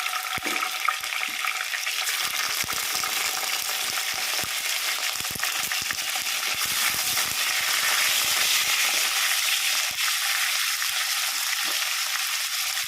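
Ingredients for a bitter gourd curry fry in oil with a loud, continuous hiss, dotted with sharp crackles and spitting pops. The sizzle stays close and unbroken for over ten seconds, with no voices.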